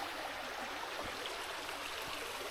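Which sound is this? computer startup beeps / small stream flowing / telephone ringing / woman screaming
small stream flowing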